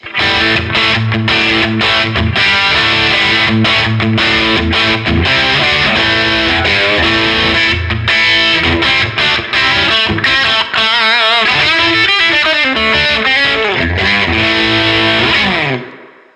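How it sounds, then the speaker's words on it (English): Loud, saturated electric guitar runs through an Analogman King of Tone overdrive pedal on its high-gain side, with thick distorted chords and riffs ringing continuously for about sixteen seconds. "So I've got the Analogman King of Tone set on just the high gain side"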